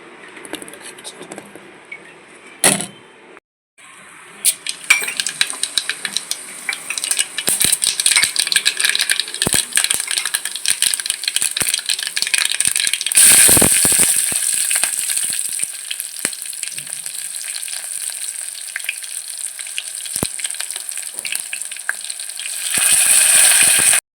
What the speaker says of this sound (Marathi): घातलेल्या चण्याच्या डाळीचं पीठ आता याला आपल्याला घोळून घ्यायचं आहे.